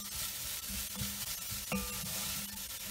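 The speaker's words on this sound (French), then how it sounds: "on laisse un peu cuire les oignons 2-3 minutes" Onions cooking in a pan for a French beef-roll dish, giving a steady close sizzle with light stirring scrapes throughout, no voices.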